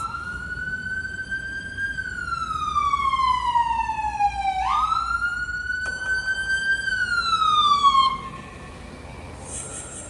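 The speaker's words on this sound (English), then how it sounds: "that was the ambulance" An ambulance siren wails loudly in long rising and falling sweeps, a clear tonal siren that sounds close, then shifts pitch and fades as the vehicle passes by.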